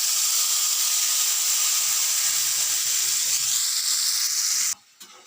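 Loud, steady sizzling of ginger, cumin, chilli and turmeric frying in hot oil, a constant close hiss that cuts off abruptly near the end.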